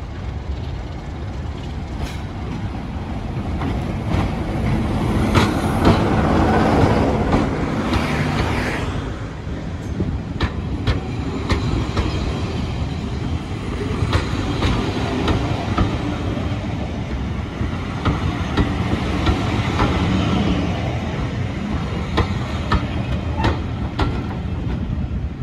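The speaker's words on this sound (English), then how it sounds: "Now arriving into the station, we have the 1615 service from Aviemore to Broomhill with" Diesel locomotive 27.050 drawing a heritage passenger train into a station on the Strathspey line, a steady loud rumble with rail noise that swells and fades over about twenty-five seconds, with no voices.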